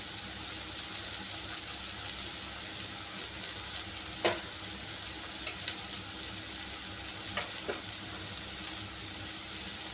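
Red chili powder and onion-garlic masala fry in hot oil as a tempering for a chicken kheema dish, giving a steady close sizzle throughout with a few faint clinks.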